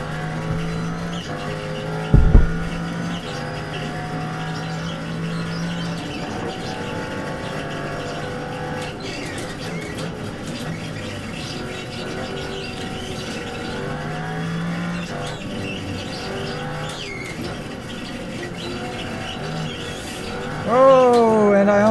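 In the iRacing sim at Sebring, a GT race car nearly spins out. Its engine drones continuously with wavering, shifting pitch, a sharp thump lands early on, and a rising whine climbs near the end.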